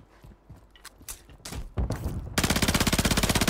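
Gunfire in Call of Duty Warzone Resurgence: scattered shots early, then a loud sustained rapid-fire automatic burst with a steady rhythm at the end, no talk over it.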